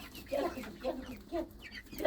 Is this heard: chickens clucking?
yes